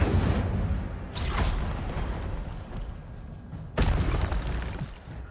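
Incendio fire spell cast in Hogwarts Legacy: two loud, booming bursts of flame about two and a half seconds apart, rising over a dense, rumbling game soundscape.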